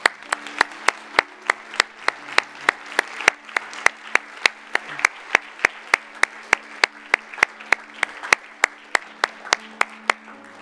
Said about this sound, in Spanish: Le damos un aplauso fuerte a nuestro Señor.